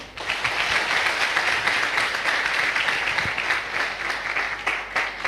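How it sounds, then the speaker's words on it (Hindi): Sustained applause from an audience at a talk or leadership event, a dense steady wash of clapping that holds at even loudness for several seconds with no voice over it. "एक बार आप लोग अपने लिए तालियां बजा लें।"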